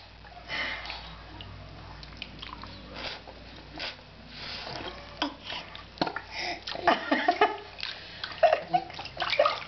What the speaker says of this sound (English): That's too much water.